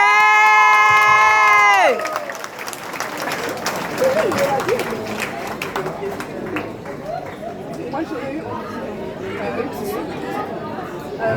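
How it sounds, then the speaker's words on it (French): After a brief electronic musical tone, a youth award ceremony for under-14 boys erupts into loud, sustained audience applause with cheering, chatter and children shouting throughout. "Encore des applaudissements s'il vous plaît pour les accompagner."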